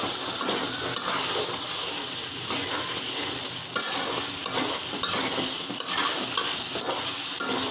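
Fried potatoes stir-fried in a spice paste in a pan give off a loud, continuous sizzle and crackle, with steady scraping of a spoon stirring throughout, close and without talk.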